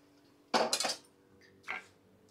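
Fried lentil dumplings (bori) are lifted out of a pan of oil, with two close metallic clatters of a utensil against the pan, then a third lighter clink.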